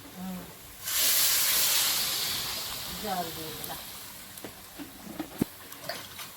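Potato curry boils in a pot over the fire with a loud, steamy hiss that swells and slowly fades, followed by scattered soft pops and bubbling clicks, with a faint voice in the background.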